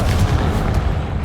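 A Confringo explosive spell blast in Hogwarts Legacy, a single loud, deep boom with a rumbling tail filling the short moment.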